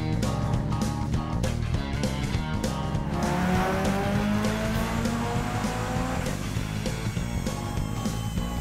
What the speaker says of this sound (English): It's a record-setting dyno pull for the event.